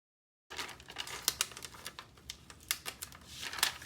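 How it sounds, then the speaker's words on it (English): A Cricut Maker cutting machine cuts an infusible ink transfer sheet, starting after a short silence with close, uneven ticking clicks and soft scratchy rustles, with no talking. "move over to the Cricut Maker so we can get this cut"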